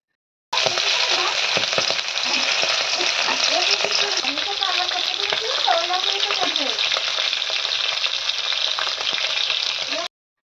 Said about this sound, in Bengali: এবার কিন্তু মাছগুলো খুব ভালো করে ভেজে নিতে হবে